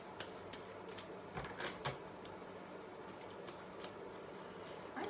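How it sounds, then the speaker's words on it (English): Tarot cards shuffled close up in a quiet room, soft continuous riffling with small irregular snaps and taps throughout, no voices. "I'm shuffling these cards."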